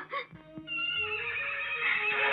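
A horse whinnies in a short rising call at the start, followed by a steady sustained tone, in a Tamil-dubbed historical film.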